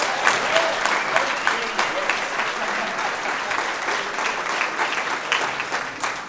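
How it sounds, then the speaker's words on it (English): A round of applause from the audience at a safety meeting, steady dense clapping with a few louder individual claps, holding for several seconds, with some voices underneath. "let's get a round of applause for everybody being here"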